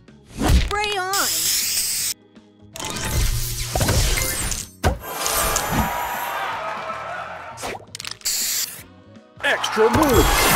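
Short bursts of a spray effect from the Foxy Roxy video game hiss out in separate blasts among chimes and other game effects, with energetic announcer voice lines cutting in between.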